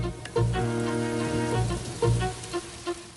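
Rain falls steadily on a surface, a continuous patter with a few louder thumps and drips mixed in, close and moderate in level with no voices.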